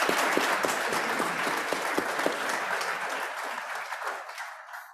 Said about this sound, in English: give him a warm round of an applause